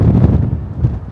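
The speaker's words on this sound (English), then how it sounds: "Quite windy." Gusty outdoor wind buffeting a microphone in a rural Missouri river town, a loud low rumble that swells and dips over about a second with no talk.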